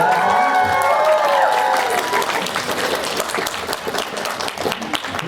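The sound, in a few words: audience applause for Sailor Moon voice actors at panel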